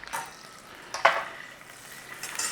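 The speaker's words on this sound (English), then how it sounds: "there should be enough in there to cook this and actually fry off an egg as well" Butter and a little oil sizzle in a frying pan over a gas flame while a breakfast is cooked, a faint, steady crackle with a couple of brief stirring scrapes.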